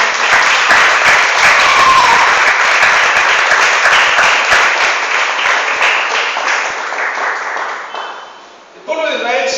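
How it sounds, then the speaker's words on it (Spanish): A church congregation breaks into loud, sustained applause during an evening service, with dense clapping and some cheering that carries on for several seconds before it fades and a voice cuts in at the very end. "¿Desea usted darle ese aplauso a Cristo en esta noche?"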